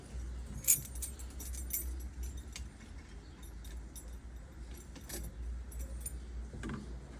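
An original Pontiac ignition key on a 1969 Pontiac GTO jangles quietly against other keys, with a few light metallic clinks over faint background rumble.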